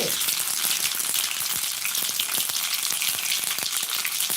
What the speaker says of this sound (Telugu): ఇప్పుడు మనం వేడైన ఆయిల్లో పోపు గింజలు వేసేసుకుందాం అవి కొంచెం చిరపట్లాడితే